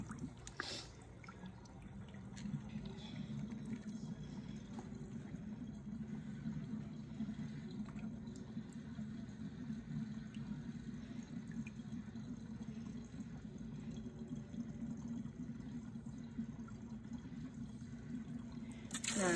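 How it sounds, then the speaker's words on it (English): Shampoo water drains out of a sink after washing hair extensions, a soft, steady trickle and gurgle that runs quietly and continuously. "I'm gonna let the shampoo water out."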